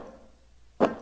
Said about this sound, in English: Let's pitch down the first swish sound.